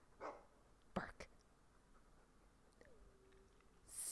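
A dog barks in Dragon Age 2, a few short sharp woofs close by, spaced apart over a quiet game background.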